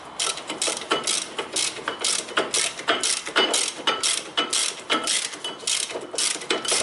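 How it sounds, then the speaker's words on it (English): A ratchet wrench with a 17mm socket tightens a bolt on the front brake of a 2002–2010 Toyota Corolla, giving close, steady bursts of rapid metallic clicking stroke after stroke, with no talking. "And I start to fasten this bolt"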